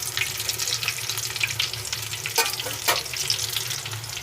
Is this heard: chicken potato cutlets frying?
yes